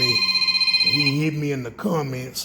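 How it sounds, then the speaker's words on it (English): A telephone rings in a rapid trilling pattern at the start, then someone speaks over the faint ringing. "Y'all excuse that phone."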